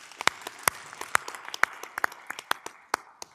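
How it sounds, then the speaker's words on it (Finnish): A small seminar audience at the TERVE-SOS 2018 event in Verkatehdas, Finland, gives brief, sparse applause: a scattering of crisp individual claps at an uneven pace, fairly close and with no talking. "aplodit tässä kohtaa"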